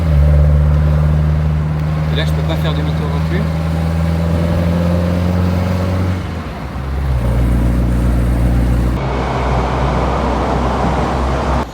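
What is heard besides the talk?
Mercedes 190 SL engine while driving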